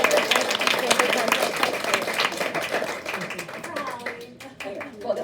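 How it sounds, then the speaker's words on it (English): Audience applauding at a district professional learning day meeting, a dense, steady burst of many hands clapping that gradually thins out toward the end, with some voices mixed in. "I would just say, clap for Leo because he did a lot of work to put all this"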